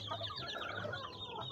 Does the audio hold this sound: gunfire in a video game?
no